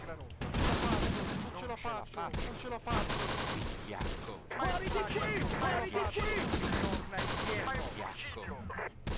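Sustained gunfire in the Close Combat: The Bloody First war game, with dense machine-gun fusillades and rapid shots rattling almost continuously. Shouted voices and chatter are mixed in with the firing.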